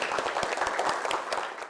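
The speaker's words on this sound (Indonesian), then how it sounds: "Kasih tepuk tangan." A classroom group of students clapping together in an Indonesian school lesson, a lively run of sharp, uneven claps at moderate volume that thins toward the end.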